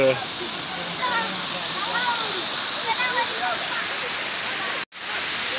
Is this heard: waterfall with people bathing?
yes